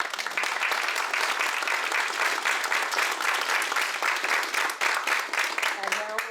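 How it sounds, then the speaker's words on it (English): An audience at a voters' forum for school board candidates applauds, with soft, evenly dense clapping that continues for about six seconds and heard from a distance. "Now let's give these 2 candidates a round of applause."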